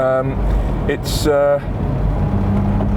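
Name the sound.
Mercedes-Benz W113 280SL Pagoda engine while driving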